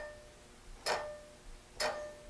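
Two brief metallic ticks about a second apart from a loose, untensioned fretsaw blade, a light clicking rattle in an otherwise quiet space.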